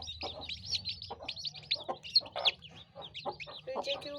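Several farm chickens cluck and chirp close by in a soft, irregular chatter, with a faint low hum underneath.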